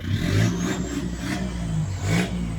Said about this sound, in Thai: ทำท่อไอเสียงมาแล้วด้วยนะครับฟังจากเสียงได้